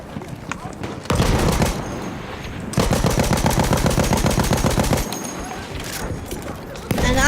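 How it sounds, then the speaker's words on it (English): Rockets and gunfire aimed at a Zeppelin in a Great War video game battle, with dense bursts of rapid automatic fire and loud blasts in long stretches, and brief quieter gaps between them. "People are using a lot of rockets to destroy this thing"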